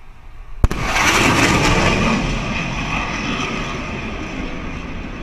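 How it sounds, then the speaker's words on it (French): A sudden sharp sonic boom cracks out from a supersonic jet, then the roar of the passing aircraft rumbles on loudly and slowly fades. "Vous avez entendu le bang supersonique?"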